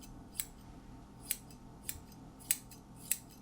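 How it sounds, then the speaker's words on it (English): Scissors trimming a dog's hair across the top of a mohawk cut, five crisp separate snips spaced about a second apart, close and clear over a quiet room. "So I'm just going to trim it across the top."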